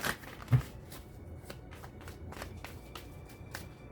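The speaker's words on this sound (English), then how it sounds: "Let me see my tarot cards." A deck of tarot cards being shuffled, with a sharp riffle or slap near the start and then a run of soft, evenly spaced card flicks close by; no talking.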